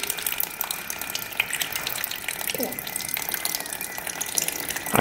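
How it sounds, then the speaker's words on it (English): Clear water draining steadily out of the cooling system of a Honda TRX450 quad with a bogging fault, a continuous close splashing gush with a brief murmur of voice partway through. "So let this drain for a little bit. Looks like there's just water in there."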